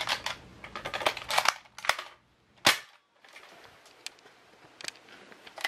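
A toy gun said to fire about 90 feet, giving several sharp, close snapping shots with short gaps and clicks between them, no talking.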